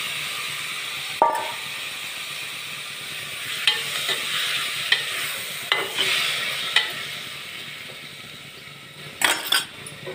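Tomato pieces sizzling in a pan with fried onions, a steady frying hiss broken by scraping stirs and occasional clinks of a utensil against the pot, close up and with no talking.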